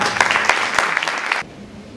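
Audience applause at a school Model UN awards ceremony, dense clapping for about a second and a half that cuts off sharply into near silence.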